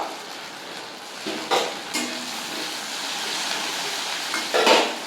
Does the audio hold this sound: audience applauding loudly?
no